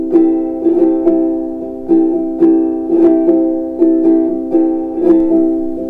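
A ukulele plays a lively repeating strumming pattern mixing quick down and up strokes with fanned rolls, close and bright, with no talking.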